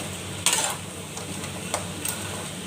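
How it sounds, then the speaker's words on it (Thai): Crab stir-fried with curry powder in a pan: a quiet sizzle under sharp clinks and scrapes of a utensil against the metal, one louder clatter then a few lighter taps. "ผัดปูพี่น้อง ปูผัดผงกะหรี่พี่น้อง"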